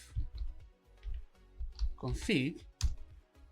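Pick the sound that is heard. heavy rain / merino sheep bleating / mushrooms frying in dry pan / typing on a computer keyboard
typing on a computer keyboard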